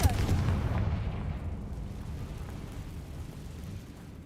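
The Confringo blasting curse spell in the Hogwarts Legacy video game, a single heavy explosive boom that rolls off into a fading rumble over about four seconds, no talking.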